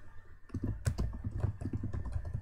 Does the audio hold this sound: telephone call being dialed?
no